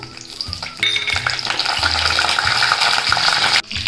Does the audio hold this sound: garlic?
yes